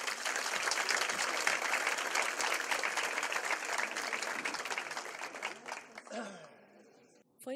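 Audience applause at an academic panel on intellectual property and innovation, a dense, sustained clapping that fades away after several seconds, followed by a brief voice.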